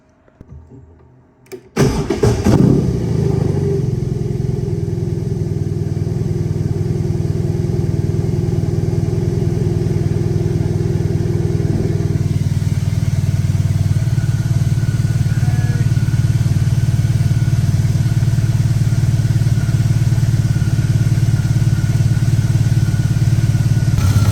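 A BMW R18 Bagger motorcycle engine cranks and fires up after a brief quiet moment, then settles into a steady, loud, lumpy idle that runs on without interruption.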